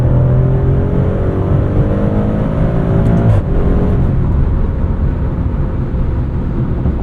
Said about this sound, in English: This Grecale revs.